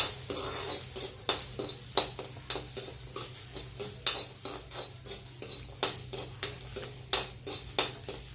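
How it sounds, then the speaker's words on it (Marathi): Ginger and garlic roast in a little oil in a pan for a Maharashtrian kat amti, with a steady close sizzle under repeated sharp scrapes and clinks of a spoon stirring against the metal. "आता आपण आलं आणि लसूण भाजून घेणार आहे. त्यात थोडंसं तेल टाकायचं."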